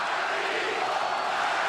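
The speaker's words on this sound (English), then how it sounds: "Crowd chanting Margarito." A boxing arena crowd chants Margarito's name, a dense, roaring wash of many voices sustained at steady loudness without breaks.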